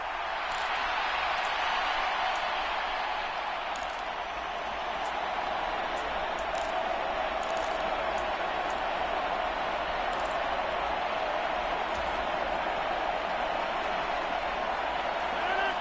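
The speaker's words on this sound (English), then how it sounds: "this crowd doing their best to make a lot of racket" A stadium crowd in the Dome roars continuously during a football game's tense final seconds, a dense, steady wash of cheering and noise with scattered whistles on top.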